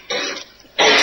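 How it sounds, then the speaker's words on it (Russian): Two loud, wet, productive coughs from an adult, close-up, separated by a brief pause. "этот яркий звук влажного кашля?"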